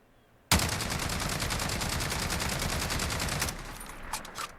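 An L85A2 assault rifle in Call of Duty Modern Warfare fires a rapid, sustained automatic burst for about three seconds, loud and close, then a few scattered trailing sounds, with no speech.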